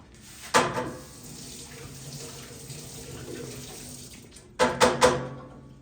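Water poured into a pot on a lit stove while making sweet rice kheer with sugarcane juice: a steady stream of running water, with louder splashy bursts at the start and again near the end, and no talking.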